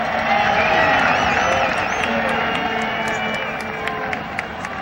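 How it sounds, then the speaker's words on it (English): Boise State Bronco fans cheer at a college football game against Nevada, a broad stadium crowd roar with scattered whoops and whistles that slowly fades, under an announcer's commentary. "Bronco fans putting up a cheer now."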